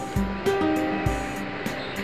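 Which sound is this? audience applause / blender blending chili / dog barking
blender blending chili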